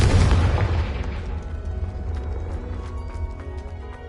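A Confringo fire spell explosion in the video game Hogwarts Legacy, a single heavy boom that hits loudly and then rumbles away over several seconds.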